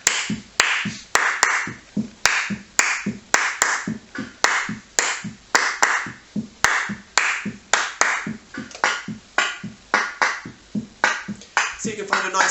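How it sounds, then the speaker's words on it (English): Hands clapping in a steady repeated rhythm, roughly two claps per second, close and crisp, with no talk. "Let's try some clapping."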